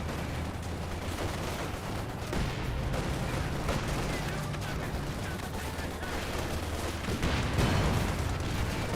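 Mortar impacts and gunfire from a Company of Heroes 2 battle replay, a steady rumbling barrage of distant blasts and rattling shots with denser bursts near the end, under faint game ambience.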